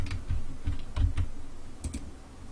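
Typing on a computer keyboard, a quick, uneven patter of close key clicks in small clusters, with a brief pause before a last pair of taps.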